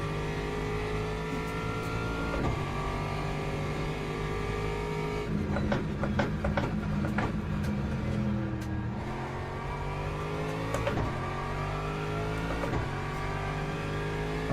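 Race car engine in the Le Mans Ultimate sim racing game, a steady loud drone with tonal harmonics that rise and fall through gear changes, with a burst of revving around the middle.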